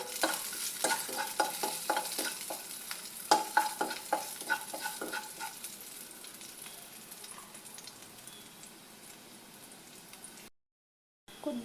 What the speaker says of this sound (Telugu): వేసుకున్న కార్న్స్ వేసేసుకున్నాం. సరి తిప్పేసుకోండి.